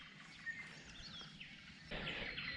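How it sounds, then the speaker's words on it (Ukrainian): Birdsong carries over calm water on a still, sunny morning with light haze, a few thin chirps and warbling calls rising over a quiet background, moderately near and faint. "Пташки співають."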